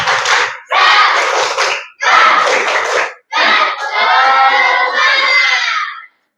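A room of junior high school students at a seminar does a rhythmic spirit clap, with four loud group bursts of clapping and shouting, the last one drawn out as a sustained chant.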